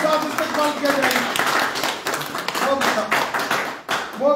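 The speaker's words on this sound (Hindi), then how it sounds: "जोरदार तालियों के साथ इस्तकबाल किया जाएगा।" Audience applause greets a new member joining the BJP at a party gathering, a dense, steady patter of many hands running throughout with voices talking over it.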